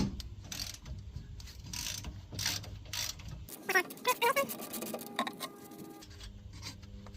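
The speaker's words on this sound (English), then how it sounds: "gonna take off the nut in the center of the leaf pack here, and that is a 14 millimeter." A ratchet wrench clicks in quick bursts as it backs off the 14 mm center nut on a truck's rear leaf spring pack, close and fairly loud, with other workshop clatter before it.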